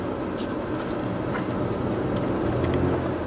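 A BMW car cornering hard while its traction control cuts power, heard from inside as a steady, loud wash of engine and road noise over a few seconds.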